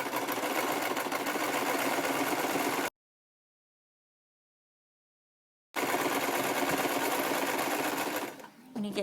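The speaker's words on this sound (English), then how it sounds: "we're just going to sew around where I drew this line" A sewing machine stitching cloth diaper fabric runs in a steady rapid mechanical whir, stops for a few seconds of silence, then starts again and winds down at the end. No one talks over it.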